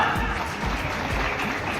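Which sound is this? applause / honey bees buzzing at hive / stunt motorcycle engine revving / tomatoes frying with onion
applause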